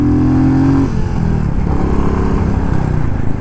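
A Royal Enfield Classic 350 motorcycle fitted with a DNA air filter, its engine running loud and steady with a deep, throbby rumble close by, the tone shifting slightly as it pulls under throttle, with no talking.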